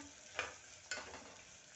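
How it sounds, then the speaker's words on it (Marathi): Onion, crushed garlic and curry leaves fry in a pan with a steady soft sizzle, broken by two short scraping stir strokes near the start and middle. "इथे आपले कांदा, लसूण, कढीपत्ता छान भाजत आहे"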